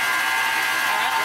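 A Hamilton Beach stand mixer runs with a steady, high-pitched motor whine and even hum, close by and unchanging for a brief moment, with no talk over it.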